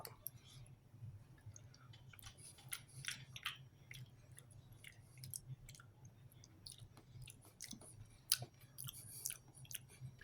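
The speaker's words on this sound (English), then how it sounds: "First thing, I'm going to try the boar pate just by itself." Soft, close chewing of a bite of boar pâté, with quiet wet clicks and mouth sounds over a low steady hum.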